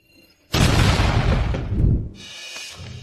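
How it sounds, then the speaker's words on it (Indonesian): A loud, sudden boom of an ancestral temple exploding in a drama, bursting in abruptly and roaring with debris and rumble for about a second and a half before easing into a lower, lingering crackle. "Celaka, kuil leluhur meledak."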